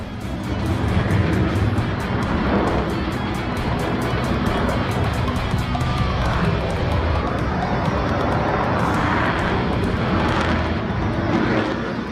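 A Raptor fighter jet in a spin makes a loud, steady engine roar that fills the whole stretch, a broad rushing drone with no voices.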